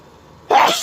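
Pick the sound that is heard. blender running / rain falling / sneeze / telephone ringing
sneeze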